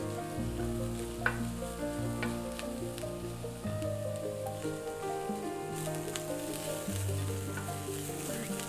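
Onions frying in a pan for spiced ground beef, a dense, steady close-up sizzle with occasional stirring scrapes and small pops, continuous throughout without talk.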